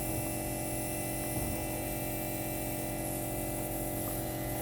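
Bentlon Silver Smart BL 40K RPM podiatry nail drill running with its water spray, a steady electric whine and hum with layered tones that holds constant and fairly loud throughout, with no voices.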